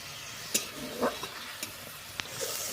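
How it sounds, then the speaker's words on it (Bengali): Spice paste with green and red chilli powder being stir-fried in a pan for an egg curry, soft sizzling with several distinct scraping stirs of a spatula at irregular intervals. "এবার মশলাটা ভালো করে কষিয়ে নিতে হবে আর যতক্ষণ না মশলা থেকে তেল ছাড়বে ততক্ষণ এটা কষিয়ে নেব"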